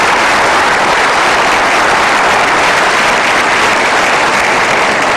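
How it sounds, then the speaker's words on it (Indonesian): A studio audience on the Kick Andy talk show gives loud, thick, steady applause that fills the whole stretch with no talk over it. "Jangan tepuk tangan, saya makin bingung."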